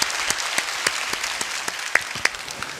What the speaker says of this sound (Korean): 우리 큰 박수로 영광 한번 올려드릴까요?